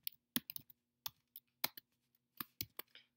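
Keys on a computer keyboard clatter in short irregular bursts of sharp clicks, close and crisp, with quiet pauses between keystrokes and no talking.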